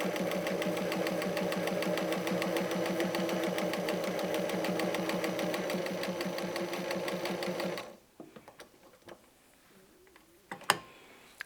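Sewing machine with a laser guide stitching a straight patchwork seam, a fast even chatter of needle strokes running steadily for about eight seconds, then stopping, followed by faint fabric handling and a couple of sharp clicks.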